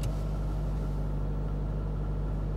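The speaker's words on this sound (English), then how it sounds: "if I put the car into neutral, it'll shudder, you know, while you're standing here, it'll just shake a little bit" A Jeep Patriot idling in neutral with a shudder from a suspected bad throttle body, giving a steady low engine rumble that holds throughout with no speech.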